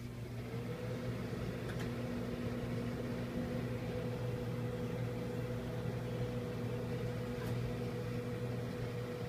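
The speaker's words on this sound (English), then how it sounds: "I'm gonna go ahead and put it in the microwave for about 5 minutes" A microwave oven hums steadily and faintly while cooking an Oreo cake, with an even low drone and a continuous fan whir that holds unchanged throughout.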